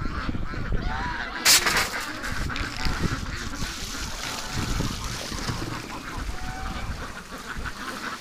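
A flock of wintering ducks and geese fills a barn with continuous honking and quacking, many birds calling at once at close range, with one sharp louder cry standing out early.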